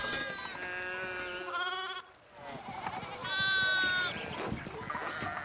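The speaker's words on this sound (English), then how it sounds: "Hello, sheep." Sheep bleat repeatedly in the video game Pentiment, several wavering calls, one louder and longer near the end, heard close and clear over a soft background.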